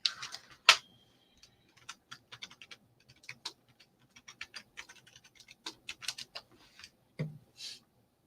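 Keys clatter on a computer keyboard in quick irregular bursts, close and fairly quiet, with short pauses between runs of typing and no voices.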